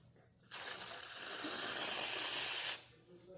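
A loud, steady hiss from the steam wand of a Rocket Cinquantotto espresso machine bursts on, holds for about two seconds, then cuts off, leaving a faint low hum.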